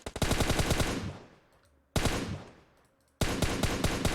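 Rapid automatic gunfire from the PUBG Mobile battle royale game, three loud bursts of fast repeated shots with brief decaying gaps between them, no talking.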